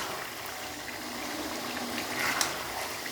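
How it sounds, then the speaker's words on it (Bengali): Chicken sautéing in a pan gives a steady, soft sizzle with a bubbling, watery texture, continuous and fairly quiet throughout with a slight swell near the end. "এখন চিকেনটা কষানো হচ্ছে"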